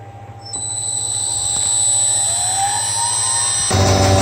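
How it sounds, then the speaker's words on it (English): A CNC router's spindle motor, fitted with a 6mm ball nose bit for carving a Les Paul style guitar body, whines up to speed, its pitch rising and holding loud and steady before a harsher cutting noise starts. "I'll just start the motor up and then we'll start doing the final carve"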